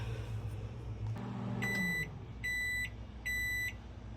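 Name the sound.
microwave oven running and beeping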